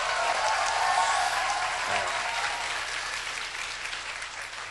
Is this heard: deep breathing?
no